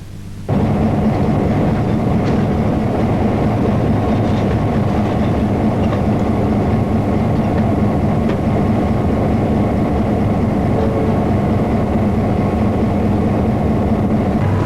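Passenger train carrying cyclists from Melbourne to Wodonga in 1984, a steady loud rumble of wheels and carriage noise with rhythmic rail clatter throughout, continuous and close.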